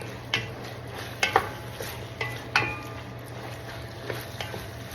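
Pasta with crushed chili gets stirred in a pan under a low sizzle, with a handful of distinct utensil scrapes and clinks spaced irregularly, quiet and close.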